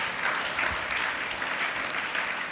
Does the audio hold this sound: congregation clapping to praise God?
yes